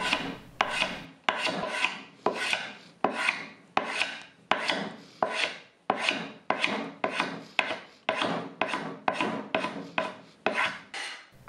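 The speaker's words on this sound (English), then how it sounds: "I think the carbide scraper was easier to use" A carbide scraper rasps across wood in steady, repeated strokes, about two per second, close and fairly loud with brief pauses between pulls.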